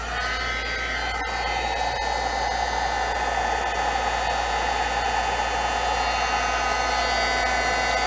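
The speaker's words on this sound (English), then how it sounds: "now we're going to heat emboss," A heat embossing tool blows hot air in a continuous, loud, steady whoosh with a high whine, close up and uninterrupted throughout.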